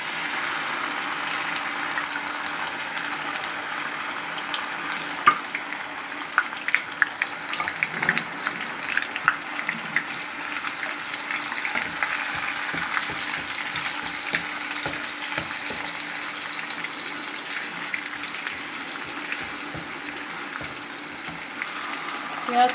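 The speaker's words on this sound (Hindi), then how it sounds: "इधर हमारा ऑयल गर्म हो गया। इसके अंदर हम प्याज डालेंगे।" Onions dropped into hot oil on high heat fry with a continuous bright hiss and crackle, broken by occasional pops and clatters of the utensil, with nobody talking.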